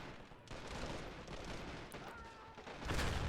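Dense, continuous German infantry gunfire in a World War II video game battle, a sustained crackle of rifle and machine-gun shots with a heavier burst near the end.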